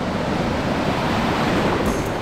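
Sea water and surf wash steadily at a Puerto Rico beach, a constant broadband rush of waves with some wind noise, close and moderately loud.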